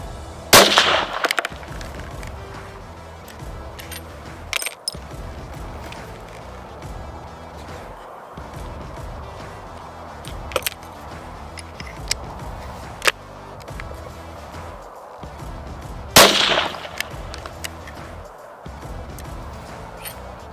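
Rifle shots from a Merkel K5 Extreme Black single-shot break-action rifle on a range, two loud sharp reports spaced well apart with fainter knocks and handling sounds between them.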